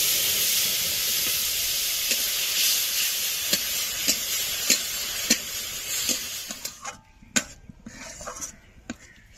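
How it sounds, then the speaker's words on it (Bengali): Carrot paste frying in a spoonful of ghee in a pan for a carrot sweet, a steady loud sizzle and hiss that thins out near the end into scattered crackles and pops. "এক চামচ ঘি দিয়ে দেব। গাজরের পেস্টটা দিয়ে দেব।"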